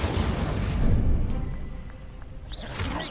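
Incendio fire spell cast in the Hogwarts Legacy video game, a loud roaring whoosh of flame that swells, then fades into crackling, with a bright shimmering chime trailing at the end.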